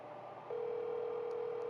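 A telephone ringing tone during an in-game phone call in MLB The Show 26 franchise mode begins partway through as a single steady, sustained electronic tone over a faint background hum.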